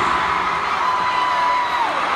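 A large concert crowd in Chicago, at a concert tour, screams and cheers continuously at high volume, with a few piercing voices standing out from the roar.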